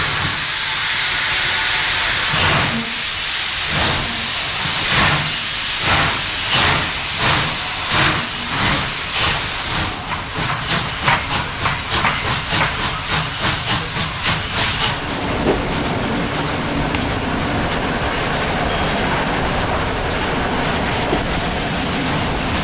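A steam locomotive train pulls out of Leszno station in Poland, with loud sustained steam hissing, rhythmic chuffing exhaust beats that quicken, then a steady rushing hiss and rail noise as it gets underway.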